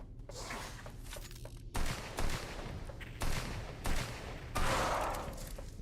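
Revolver shots from the freeware shooter AMC Squad crack out in a handful of loud, spaced bursts, each sharp report trailing off before the next, with no talking.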